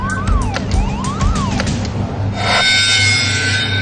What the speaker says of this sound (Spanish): Las alarmas de gas sonaron en la cubierta de producción.